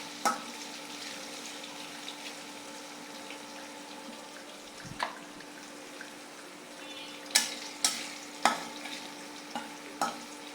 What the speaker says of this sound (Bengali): পেঁয়াজ এলাচ একসঙ্গে ভাজা হবে।